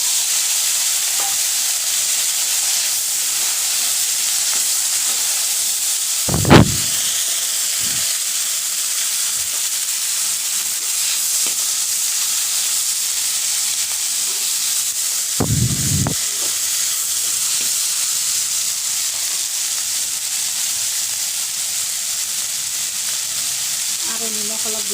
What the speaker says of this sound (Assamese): ইয়াত মই এতিয়া বিলাহীখিনি দি দিছোঁ